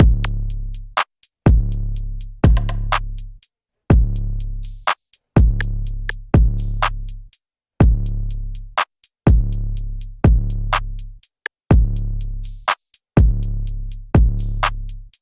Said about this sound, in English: Okay, so drums only sounds like this.